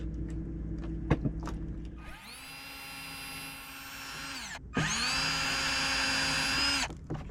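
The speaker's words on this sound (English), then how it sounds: "I just drilled 4 holes in it." A cordless power drill boring holes through a board for a sailboat battery hold-down, in two steady whining bursts of about two and a half seconds each, separated by a brief pause, preceded by a few light knocks.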